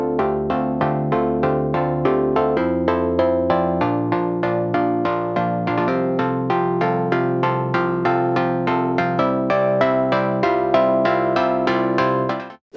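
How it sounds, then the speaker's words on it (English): Melodic dubstep plays, with a bright synth top melody over plucky, evenly rhythmic synth chords that shift every couple of seconds, then it cuts off abruptly at the end. "Finally, I added a top melody on the plucky chords for variation."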